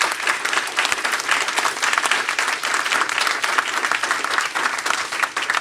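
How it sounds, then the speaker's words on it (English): A hall audience at a Wisconsin candidates forum claps for the event organizers, giving dense, sustained applause that runs steadily throughout with no talk over it. "So please, a round of applause for the people who've organized what we're doing tonight."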